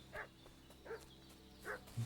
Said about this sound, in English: that dog making such a fuss about?